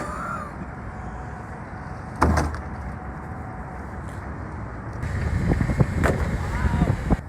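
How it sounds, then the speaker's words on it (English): Cold wind off Lake Michigan in Chicago rumbles steadily against the microphone, with gusts swelling louder toward the end and a brief thump partway through. "the wind coming off of that lake is"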